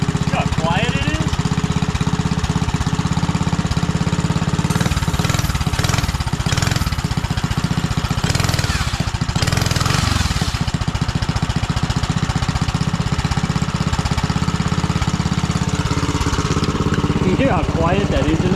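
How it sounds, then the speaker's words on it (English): A Briggs & Stratton engine on a Mega Moto minibike idles close by with a steady, even chugging that runs unbroken throughout, while people talk over it. "You hear how quiet that engine is?"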